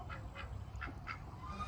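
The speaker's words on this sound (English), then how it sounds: "the white duck" A white duck at a Florida petting zoo gives four quick, faint quacks in a short rhythmic series against low, steady outdoor background noise, with no talk.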